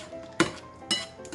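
A utensil mixing ingredients in a bowl for keto chicken parmigiana with tomato pesto, heard as two or three close, distinct clinks and scrapes against the dish, separated by soft stirring.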